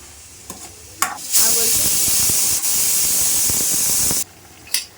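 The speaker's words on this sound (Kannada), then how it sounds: "ಈ ಥರ ಲೈಟಾಗಿ ಮಿಕ್ಸ್ ಮಾಡಿದ್ಮೇಲೆ" Chicken kurma is stirred gently in a hot pan, the spoon scraping and clinking while the curry sizzles and hisses loudly and steadily for a few seconds, with a couple of clear taps before and after.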